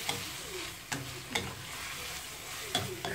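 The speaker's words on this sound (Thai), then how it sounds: "ผัดอันนี้ไปก่อน" Shellfish sizzle in a pan with a blended herb curry paste while a utensil stirs and scrapes now and then, a steady close frying hiss with sharp clacks.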